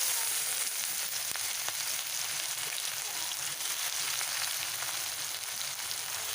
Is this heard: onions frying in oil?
yes